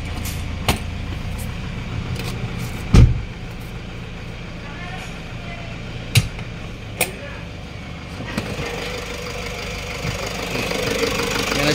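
A Toyota HiAce 3.0 engine idles steadily under a low rumble, with occasional sharp clicks and knocks. The sound gets a little louder toward the end.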